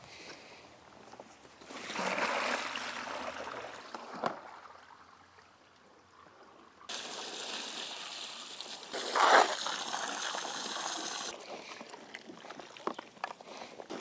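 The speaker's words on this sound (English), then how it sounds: "dump all this out, refill with warm water, and rinse everything out" Soapy water is dumped out of a Stone Glacier hunting pack and warm rinse water is run in, heard as two long stretches of hissing pour and sloshing with quieter gaps between.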